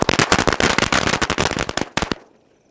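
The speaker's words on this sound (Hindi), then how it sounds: "आप टेस्ट करते हैं हमारी मोर की 100 वाली लड़ी का और देखते हैं ये कैसी चलती है" A 100-shot Mor firecracker string for Diwali goes off in a dense, rapid burst of loud, close cracks for about two seconds, then stops abruptly.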